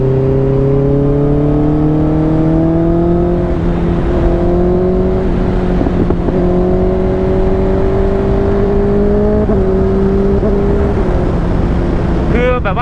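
A Honda CBR650R motorcycle engine revs hard and climbs through quickshifter gear changes, each upshift briefly dipping the pitch before it rises again, loud and close, a steady high-revving drone throughout.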